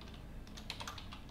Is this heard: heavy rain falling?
no